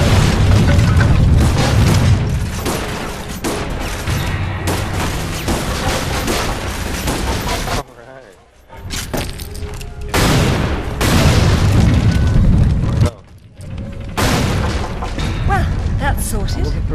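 Explosions and booms rumble through Lara Croft and the Guardian of Light in heavy, repeated blasts with brief quiet gaps, while players talk over the din.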